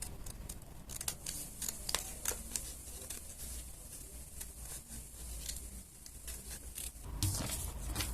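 Scissors snipping through paper while shaping a Harley Quinn Halloween mask, a quick run of crisp, close cuts with short pauses between, alone without talk.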